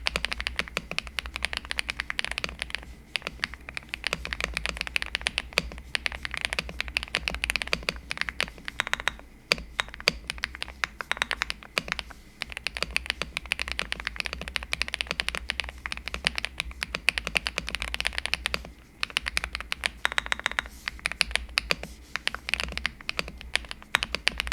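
Continuous fast typing on a GravaStar Mercury K1 Lite mechanical keyboard with acoustic, button and silicone foam, the clicky keystrokes close and steady throughout with only brief pauses and no voices.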